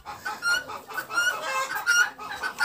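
A broody hen clucks repeatedly in a steady run of short, close calls, alone with no talk, in a backyard poultry setting.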